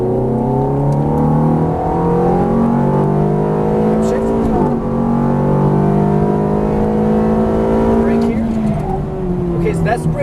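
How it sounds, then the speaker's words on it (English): A Ferrari F430 F1 at full throttle down a race track straightaway, its engine note climbing steadily through the gears, loud and close inside the car, with a voice talking over it throughout. "and full throttle down the straightaway"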